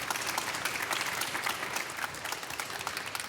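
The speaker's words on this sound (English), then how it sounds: "Big applause for the panelists, ladies and gentlemen." A conference hall audience applauds panelists at a start-up finance and funding panel, a dense, steady wash of many hands clapping that stays loud and even throughout, with no voices over it.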